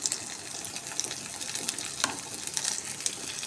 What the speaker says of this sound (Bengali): ভালো মতন ভালো করে ভাজা ভাজা করে নিতে হবে পেঁয়াজটা কাঁচা লঙ্কাটা